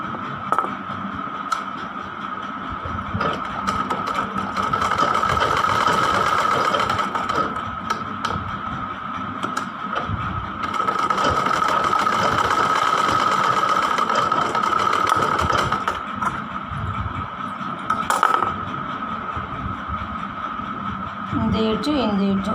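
An electric sewing machine stitching the folded edges of a one-year-old baby's summer frock, giving two sustained whirring runs with a steady whine, separated by brief pauses and fabric handling.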